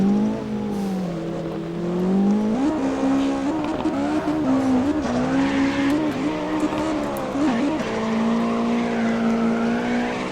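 Race car drifting in the mobile game CarX Drift Racing, a loud engine revving and wavering in pitch with tire squeal, continuous and close.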